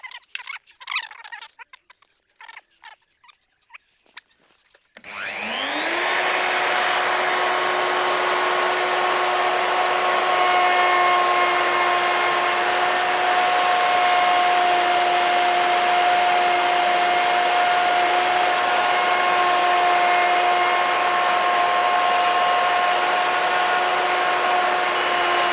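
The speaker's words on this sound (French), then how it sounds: "on va rebrancher la machine et on va défoncer en fonction du gabarit" An electric router cutting a door hinge recess along a template starts up after a few seconds of quiet handling clatter, then runs as a loud, steady high-pitched whine and roar held unbroken through the rest of the clip.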